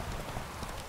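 Horse hooves clip-clopping as a rider moves through a village in The Witcher 3, a short burst of quick soft hoofbeats.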